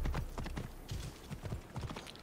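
Horse hooves clip-clop in a quick, steady trot in the video game Assassin's Creed Origins, faint and close, running for a couple of seconds without speech.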